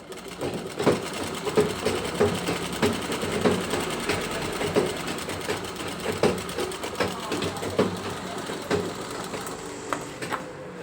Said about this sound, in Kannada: ಈಗ ಈ ಥರ ಮೇಲೆ ಹೊಲಿಗೆ ಹಾಕೋಬೇಕು.